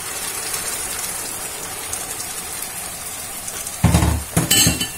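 Onions frying in a pan give a steady sizzle, then chopped tomato is added with a sudden louder hiss and clatter against the pan near the end, no talk.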